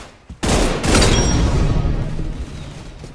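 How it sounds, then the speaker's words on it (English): Triple-burst G11 rifle fire in a first-person shooter video game, a sharp loud volley fired through a window that rings out and decays over a couple of seconds. "Triple burst G11. All it takes is 2 squeeze of the trigger."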